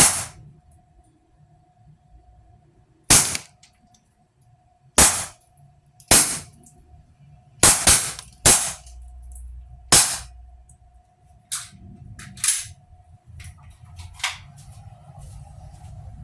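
A Glock 17 T4E .43 training pistol fires about eight sharp, snappy shots at a melon, spaced irregularly across the stretch, with a faint steady hum and low background rumble between reports.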